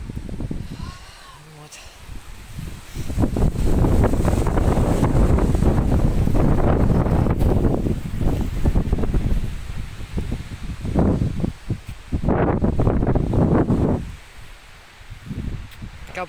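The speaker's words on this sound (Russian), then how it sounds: "очень сильный ветер." Very strong storm wind roars and buffets the microphone in long loud gusts, rustling nearby foliage and easing off briefly between blasts during a storm warning.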